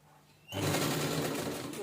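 A sewing machine runs at steady speed, stitching lace onto a blouse. After a quiet half second it starts abruptly and its close, loud whirring hum continues to the end.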